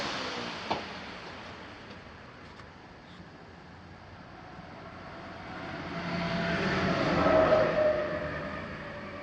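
An electric fan on its fastest setting blows air around an air compressor and its electric motor, making a steady broadband whoosh that swells louder toward the end, with no voices.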